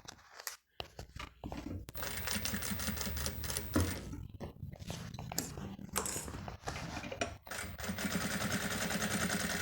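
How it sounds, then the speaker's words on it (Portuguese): A sewing machine runs a short safety seam to secure two fabric ends on a zippered cosmetic case with a clear window, giving bursts of rapid mechanical stitching broken by brief pauses, close and fairly quiet. "E também vou passar uma costurinha de segurança aqui para segurar essas duas pontas também."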